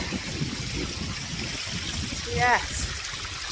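A small waterfall stream in the snowy Peak District flows with a steady, close trickling rush, while someone speaks briefly over it.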